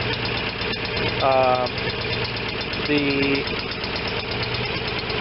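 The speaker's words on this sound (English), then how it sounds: "Probably idles a little lower than it really should for a twin" A Kohler Command Pro 25 twin-cylinder engine on a Vermeer BC625A brush chipper idles a bit low, giving a steady, close, rumbling drone with a faint knock while someone speaks briefly over it.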